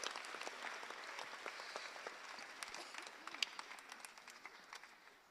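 An audience at a Philadelphia town hall meeting breaks into applause, a dense, steady patter of many hands clapping, heard faint and slightly distant, gradually tapering toward the end.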